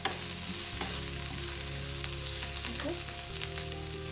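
Soya chunks tossed and frying in a pan, a loud, dense sizzle with scraping and clattering stirs throughout, close; a voice speaks a brief word over it.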